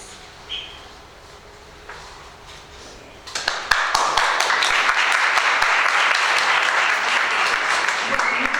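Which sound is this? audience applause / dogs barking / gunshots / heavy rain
audience applause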